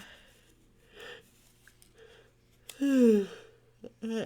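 A person gives a drawn-out yawn late at night, a breathy, rising-then-falling groaning exhale lasting under a second, close and fairly loud, preceded by quiet breathing and followed by a short sigh.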